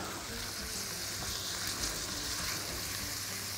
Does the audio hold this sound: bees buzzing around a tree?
no